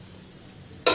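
Hot tempering (tadka) is poured onto coconut chutney, and a sudden loud sizzling burst breaks the near silence right at the end.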